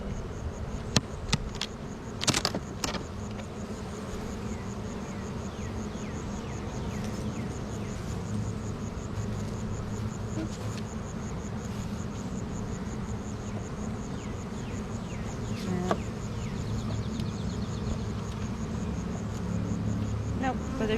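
Honey bees buzz steadily at the top of a hive, a dense, continuous drone that stays close and even throughout, with a few sharp clicks and knocks near the start and a voice talking faintly underneath.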